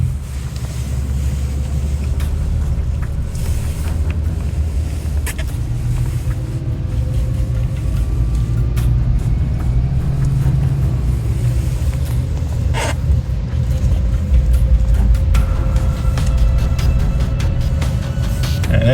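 A RAM 3500 Cummins HO dually truck descends a steep 25% grade on its exhaust brake, a loud, continuous low diesel drone with wind and road noise throughout.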